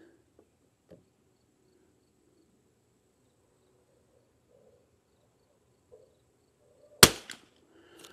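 A single sharp rifle shot from a Lithgow LA101 or CZ 455 firing Lapua Xact ammunition cracks out loud after long near-silence, followed by a faint echo and a small later click.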